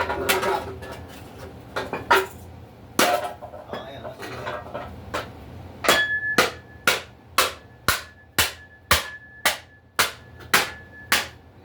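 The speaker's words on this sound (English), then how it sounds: "now I go to swing the hammer and the head comes off" Hammer blows in a home basement workshop, a run of sharp, evenly spaced strikes that begins irregular and settles into a steady rhythm, loud and close, with a little background noise.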